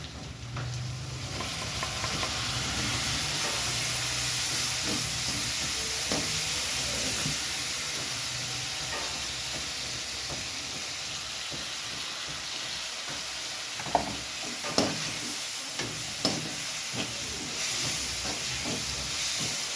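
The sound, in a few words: ginger garlic paste sizzling with onions in a pan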